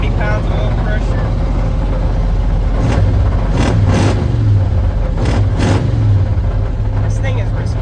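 An old car engine that had been sitting, now running steadily with loud continuous drone and a few blips of revving partway through, close up with talk nearby.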